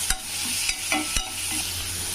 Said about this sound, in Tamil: வெங்காயம் நல்லா சிவக்க வதங்கிடணும். இஞ்சி பூண்டு பேஸ்ட்டு கொஞ்சம் சேர்த்துக்கலாம்.